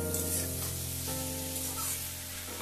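Radish curry coated in spices sizzles steadily in a pan, a close, even hiss with a low steady hum beneath it and no voices.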